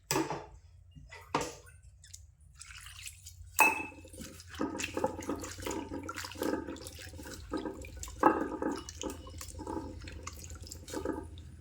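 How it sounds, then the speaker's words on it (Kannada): Water runs and splashes over cut potatoes being washed by hand for french fries, with irregular sloshing, dripping and clattering bursts close by in a quiet kitchen. "ಇವು ಈಗ ನೀರು ಹಾಕ್ಬಿಟ್ಟ ತೊಳಂಬ್ರಿ"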